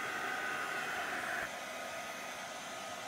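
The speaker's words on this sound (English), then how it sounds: "So a good heat gun is a very good investment tool." A heat gun blowing to heat-set alcohol inks, a steady close airy whoosh and motor hum that drops slightly in pitch and level halfway through, running alone without voices.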